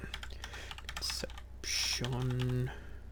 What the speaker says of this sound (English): Let's type in Conception.